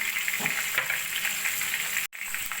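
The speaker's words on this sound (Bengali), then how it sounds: "সবজিগুলো হালকা সোনালি করে ভেজে নিয়ে দিয়ে দেবো আমি" Chopped gourd-leaf vegetables and potatoes sizzle steadily in hot oil while being fried golden for a Bengali lau shak dish, a continuous close crackle with a few stirring scrapes and a brief break near the end.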